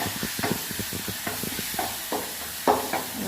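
Onions, tomatoes and mustard seeds sautéing in oil for a wild mushroom curry, heard as a soft sizzle under a series of rhythmic scraping and tapping stirs, with a louder clack near the end.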